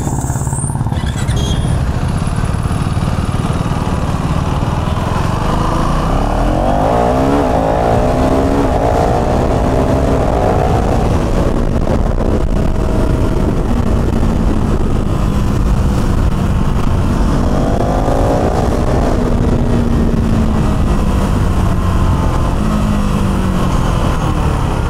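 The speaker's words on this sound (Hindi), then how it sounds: "ट्रैफिक।" Continuous road traffic surrounds a rider on a KTM Duke 390 motorcycle, with engine drone, passing vehicles and rising and falling revs heard up close and steady, mixed with wind rush.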